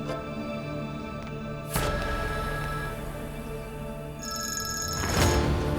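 A telephone rings with repeated electronic bell tones, loud and close, over a soft background in a Turkish drama scene.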